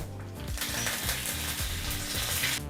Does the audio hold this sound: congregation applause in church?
no